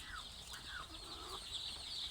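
Yellow white-tailed and Pradu Hang Dam chickens on a Thai farm cluck and chatter in a continuous mix of overlapping calls, with birdlike squawks over steady outdoor background noise.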